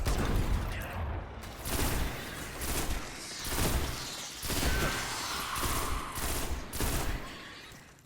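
A fusion rifle fired in the game Destiny, sounding as a series of loud, rhythmic charged bursts, each a broad crackling blast roughly every second, near and dominant.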